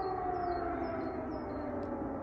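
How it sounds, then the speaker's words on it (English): Distant civil-defense air raid siren in wartime Ukraine, a faint steady wail held throughout with a low background hum. "Sirens has become the new soundtrack of my life."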